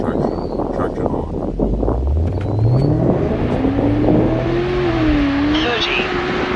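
A car accelerates hard on a timed run with traction control on, its engine note climbing steadily in pitch over several seconds, heard from inside the car under a constant wash of road and wind noise.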